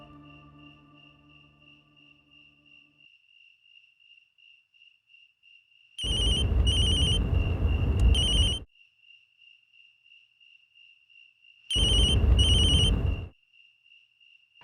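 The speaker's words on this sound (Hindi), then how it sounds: "कम ऑन रोहिणी, सिर्फ एक बार फोन उठा लो प्लीज" A telephone rings in two long bursts separated by quiet, each burst a rapid electronic trill, heard over a steady high electronic tone in an indoor drama scene.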